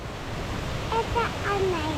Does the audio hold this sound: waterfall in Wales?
yes